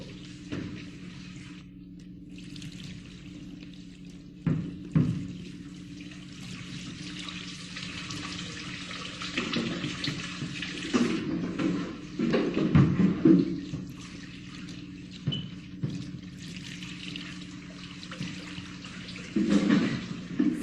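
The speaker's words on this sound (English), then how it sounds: "The left side of the body is washed in the same order." Water poured and splashing as a body is washed in the Jewish Taharah burial rite, with intermittent running and trickling water over a low hum, swelling and fading in several bursts.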